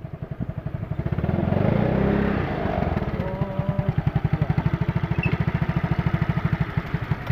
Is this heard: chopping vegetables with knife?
no